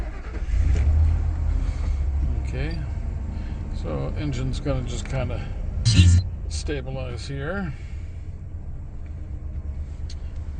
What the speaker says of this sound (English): So let's start up the engine, and you can see what happens when you run the engine.